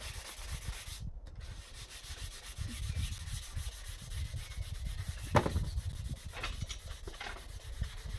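A composite laminate worktop being hand sanded with 240-grit sandpaper, giving a steady close rasping rub in even back-and-forth strokes with a few sharper scrapes, no talking.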